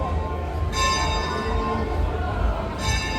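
A church bell tolling in Hamburg, two loud ringing strikes with a long sustained hum carrying between them over steady street noise.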